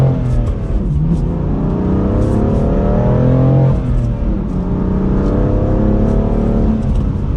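A 2020 BMW M4 Heritage Edition accelerates hard from first gear in Sport Plus, its engine note loud and close as it climbs steadily in pitch, dips briefly at each upshift and climbs again, with no talk over it.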